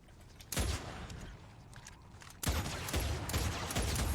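A level 130 Basilisk pistol fires in Fortnite Save the World during the winter event, two sharp heavy shots roughly two seconds apart, each followed by a ringing, rumbling decay.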